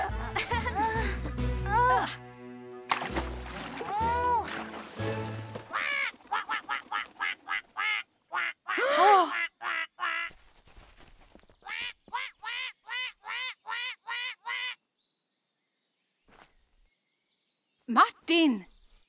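A cartoon duck quacks in a long run of rapid, nasal calls alongside animated characters' speech, music and giggling, with the quacks clear and close in the middle of the scene.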